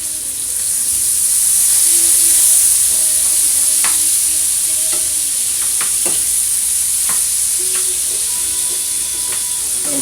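Onions seasoned with Cajun spice sizzle loudly and steadily in a pan, a constant bright hiss broken by occasional clicks and scrapes of stirring, with no voices.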